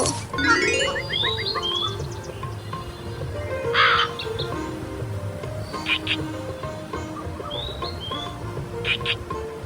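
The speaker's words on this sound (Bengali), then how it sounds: "এই কাকটা দুষ্টামি শুরু করলো" A cartoon crow caws in a few sharp, bright calls among other animated sound effects and background scoring, with brief voices in the mix.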